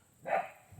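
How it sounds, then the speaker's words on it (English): One short bark from an American Bully dog at play rings out close by, then quiet returns with faint background noise. "excuse the dogs. They over here playing around."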